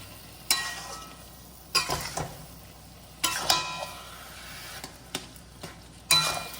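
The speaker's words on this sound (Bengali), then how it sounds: "এই যে ঠিক এরকম ভাবে নাড়া দেবে যাতে কি হয় পাকটা পুরো নাড়তে পায়" A coconut and jaggery mixture for naru is stirred in a pan as it steams. Scraping strokes come roughly every second and a half against a soft background sizzle, close up.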